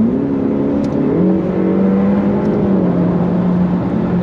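Ferrari F8 Tributo V8 engine revving through its exhaust, a loud, steady, sustained tone with a pitch that rises and then settles, heard alone without talk.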